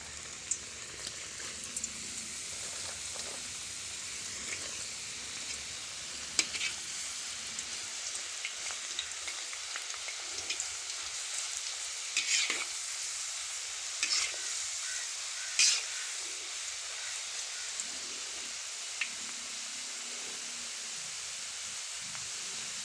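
Potato chips fry in hot ghee with a dense, even, rain-like crackle and sizzle that runs steadily throughout, broken by a few sharper pops and spatters, close and without talk.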